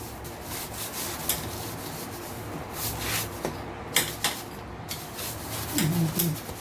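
A hand wipes across a kitchen counter, making steady, close rubbing and swishing strokes with a few soft knocks, heard alone without speech.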